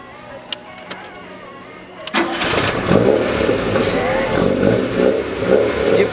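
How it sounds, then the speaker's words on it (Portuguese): A Peugeot 205 engine catches after a few clicks and then revs hard and loud as the accelerator is pumped, a close, throbbing roar that holds to the end. "Dá 2 bombadinhas no acelerador só."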